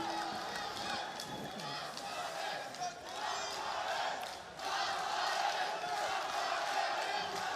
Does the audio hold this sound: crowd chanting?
yes